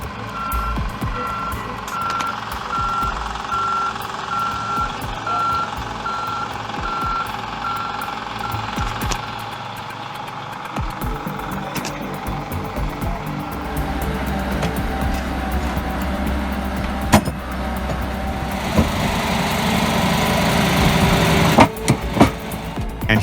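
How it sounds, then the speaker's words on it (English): A Volvo FMX 10x4 heavy truck with five axles and a custom platform reverses, its steady reversing beeper repeating over a rumbling diesel engine, with clanks and louder machinery building toward the end. "A Volvo FMX 10x4 is preparing to take on a serious load."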